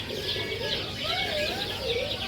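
Australian parakeets at a bird market in Makassar chirp and warble in quick overlapping twitters, close and fairly loud over a low background hum.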